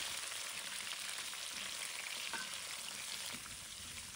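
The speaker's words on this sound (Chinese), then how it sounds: "把沥干水分的冬瓜倒进猪油锅里，小火慢慢煸炒" Drained winter melon stir-frying in hot lard over low heat in a wok, producing a soft, even, continuous sizzle with a faint scrape or two, close but quiet.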